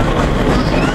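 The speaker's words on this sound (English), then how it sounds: "I'll hear the chug and the train picks up speed" A loud, steady rumble of a moving steam train on a restored railway, with a continuous clatter and roar from close by that rolls on without pause and no speech.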